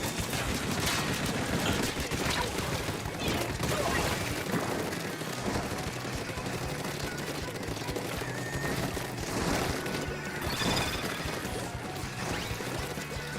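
Chaotic in-game barrage in Splatoon with missiles landing amid crashes, bangs and rapid fire, loud and continuous throughout.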